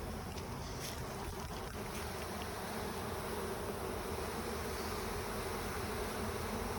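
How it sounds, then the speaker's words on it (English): Honeybees from a package for a Warre beehive installation hum in a dense, continuous buzz, close and steady throughout with no talking. "So we've got our bees in here."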